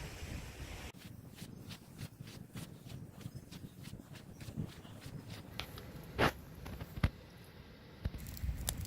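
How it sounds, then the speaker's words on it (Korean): A low, steady rush of surf on a beach beside a campsite in Goseong, Gangwon-do, South Korea, rolls on beneath gusty wind noise, with a few sharp knocks and clicks nearby. "캠핑장에서 캠핑하면서 파도 소리 들으면서 캠핑하시면 아주 좋을 것 같습니다"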